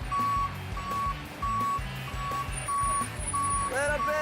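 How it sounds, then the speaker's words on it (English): A cement truck reversing outdoors gives a steady series of loud single-pitch beeps at regular intervals over a low engine rumble, with voices heard in the background. "A cement truck is the perfect thing to mix"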